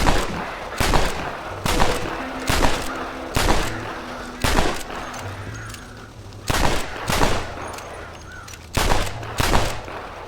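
Gunshots are fired at crows in Red Dead Redemption, about ten sharp loud cracks in irregular pairs and singles, with a low droning ambience underneath and brief gaps between the shots.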